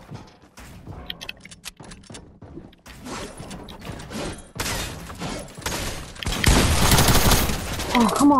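Submachine-gun fire in a video game crackles in rapid bursts, sparse and choppy at first, then building into dense, loud sustained automatic volleys near the end, with mechanical clatter mixed in.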